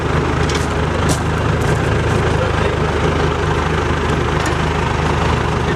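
A New Holland 256 five-bar hay rake with a dolly wheel works in the field, heard as a steady, loud, low engine drone that runs unbroken with no talk.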